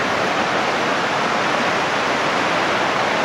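River water rushes steadily around rocks in Panama, a loud, unbroken close-up roar with no pauses and no voices.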